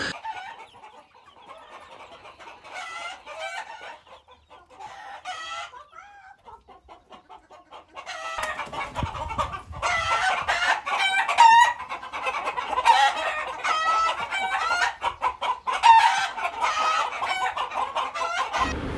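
Chickens cluck and a rooster crows on a farm garden in Dubai, with sparse calls at first and then a busier, louder stretch of overlapping clucks and repeated crows.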